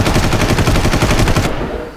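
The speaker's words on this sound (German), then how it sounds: "der braucht ja ewig viele Schüsse" Rapid machine-gun fire in the video game Far Cry, a loud close burst of evenly spaced shots for about a second and a half, then a decaying tail.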